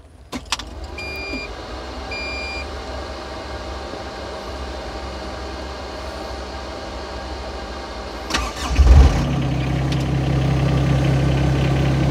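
A Lovol FR 18 mini excavator diesel engine cranks and fires after a quiet stretch of steady low hum with electronic beeps, then settles into a loud, even idle rumble.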